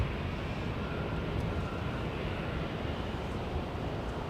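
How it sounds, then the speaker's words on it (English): Asiana Airlines airliner taking off at Los Angeles International Airport, a steady broadband roar of jet engines that holds even and unbroken from start to end, with no voices over it. "I can't believe Asiana already clear for takeoff."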